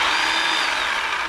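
A Harbor Freight battery-powered chainsaw cutting through the wooden transom of a Ranger boat during repair, a loud, steady, close whine with no breaks.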